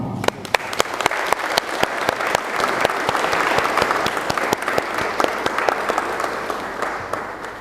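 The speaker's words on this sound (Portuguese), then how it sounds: "vamos aplaudir, por favor." Steady applause from a symposium audience in Malanje, Angola, many hands clapping continuously at an even level for several seconds, no talking over it.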